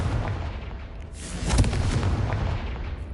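Confringo fire spell blasting in the video game Hogwarts Legacy, a booming explosive burst with crackling impact over a continuous rumbling game backdrop.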